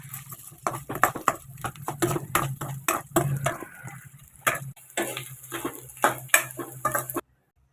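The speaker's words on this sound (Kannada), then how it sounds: "ಹೀಗೆ ನಾನು ತೊಗೊಂಡಿರೋ ಎಲ್ಲ ಅಂಟನ್ನು ಸ್ವಲ್ಪ ಸ್ವಲ್ಪ ಹಾಕಿ ಹುರ್ಕೊಂಡಿಟ್ಕೋತೀನಿ." Edible gum roasting in a pan, heard as a series of close scraping, stirring and rattling strokes with uneven rhythm, clattering of the spatula against the metal, ending abruptly.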